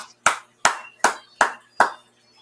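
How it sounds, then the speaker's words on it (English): Five sharp claps in a slow, even rhythm, close and clear, with brief silence between each one, a small round of applause in an informal fishing show setting. "Round of applause."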